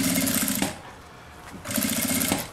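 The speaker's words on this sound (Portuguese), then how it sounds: "a gente pode diminuir a velocidade dessa máquina, mesmo sendo industrial" Industrial sewing machine stitching at reduced speed while sewing a zippered oral-hygiene case, with two bursts of rapid mechanical rattling separated by a quieter pause, close and fairly loud.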